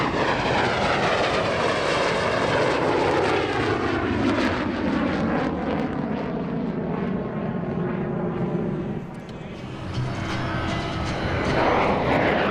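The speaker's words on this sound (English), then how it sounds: "The Mikhail Gurevich MiG-17 is a development of the highly successful MiG-15, Russia's first operational jet fighter" A Mikhail Gurevich MiG-17 jet fighter passing at a warbird airshow, a loud, sustained engine roar whose pitch sweeps down as it goes by, then swells again near the end.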